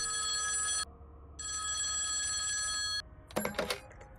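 Telephone bell ringing inside the Project Selene video game, two loud electronic ring bursts separated by a short pause over steady tonal game ambience, followed by a few sharp clattering sounds at the end.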